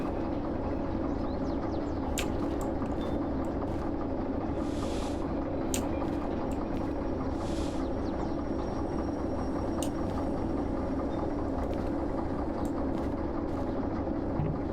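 A low, steady diesel locomotive rumble idles and drones throughout as it shunts in the video game Derail Valley, with faint metallic clanks and knocks scattered over the engine noise.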